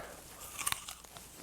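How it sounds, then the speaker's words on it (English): A single sharp crunch as teeth bite into a crisp Honeycrisp apple, close and loud, followed by a few small crackling chews with no talking. "Satisfying crunch."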